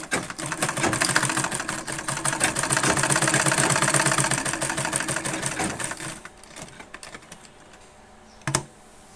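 A sewing machine runs steadily for about six seconds, stitching a seam on a seven-year-old child's dress, then stops, followed by a single sharp clunk.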